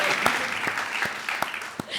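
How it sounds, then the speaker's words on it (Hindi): Studio audience on a Hindi TV comedy stage show clapping in a steady, moderately loud patter, with sharp individual claps standing out, and faint talk underneath. "ताली बजाओ यार तब चलेगी"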